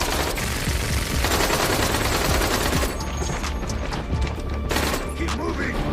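Loud sustained gunfire in the war film Last Man Down: dense automatic bursts and shots, close and continuous, with shouting voices mixed in.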